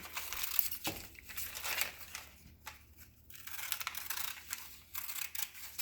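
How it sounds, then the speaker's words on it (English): Paper scissors rough-cut freezer paper in a craft setting, giving faint irregular snips and crinkling rustles with brief pauses between cuts, and no voice. "I'm going to use paper scissors because I don't like to use my good scissors"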